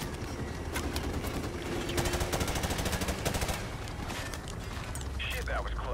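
Rapid unsuppressed automatic rifle fire in Call of Duty Modern Warfare, sustained close bursts crackling over battlefield noise, with game voices chattering in the background.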